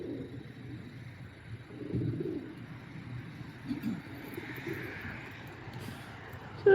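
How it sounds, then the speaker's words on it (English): Pigeons cooing on a roadside in Fleetwood, soft low coos repeating at a moderate distance over steady outdoor background noise, with no talking. "All these pigeons."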